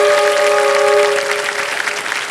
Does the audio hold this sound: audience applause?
yes